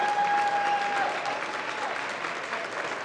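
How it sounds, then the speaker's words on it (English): Sustained applause from a large crowd at an award show, dense and steady clapping that fills the room, slowly easing off slightly toward the end. "We're giving you a round of applause anyway."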